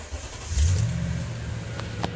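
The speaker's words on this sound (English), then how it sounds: "So start the engine." A 2010 Toyota Tundra engine cranks and catches about halfway through, with a short starter whir and a low rumbling surge. It then settles into a steady idle close by, with a couple of faint clicks and no speech.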